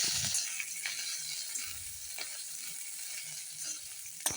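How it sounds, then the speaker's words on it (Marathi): Green chillies and coriander roast in oil in an iron kadhai for thecha, giving a steady close sizzle with occasional sharp clicks and scrapes from constant stirring, and no voices. "थोडं तेल पण घालून घ्यावे व मिरच्याला सतत हलवत छान असं भाजून घ्यावे"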